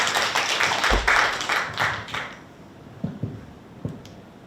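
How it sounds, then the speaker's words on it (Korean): Audience members clap at a youth support fundraising event, a fairly close cluster of handclaps that thins out into a few scattered, fainter claps before stopping. "박수 부탁드리겠습니다"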